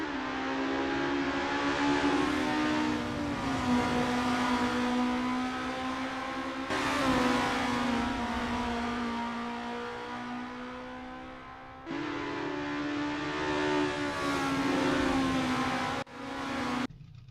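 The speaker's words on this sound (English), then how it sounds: "as the drivers rev up their engines and put their skills to the test in the qualifying session" Formula race car engines in a racing video game at the Vallelunga Classic circuit, screaming through repeated rising revs with abrupt gear-shift drops, several surges in a row with sharp cutoffs, loud and with no voices.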